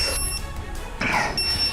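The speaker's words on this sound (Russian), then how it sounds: "Коптер пищит." A drone inside a nuclear power plant reactor hall gives high-pitched electronic beeps in two short bursts, close and clear over a low rumbling background.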